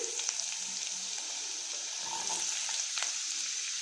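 Onions frying in hot ghee and oil for pav bhaji, a soft steady sizzle with scattered crackles and faint stirring scrapes, fairly quiet and close.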